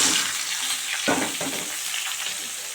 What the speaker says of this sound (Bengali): এই সবজিটা আগে দিয়ে দেবো আমি তেলের মধ্যে।